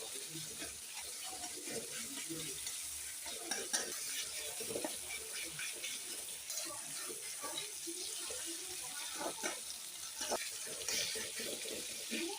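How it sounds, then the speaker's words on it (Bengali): A salted dish is stirred in a pan with scraping and light clatter, over a soft, steady sizzle and wet, watery sounds that carry on throughout. "নেড়ে দিলাম ভালো করে।"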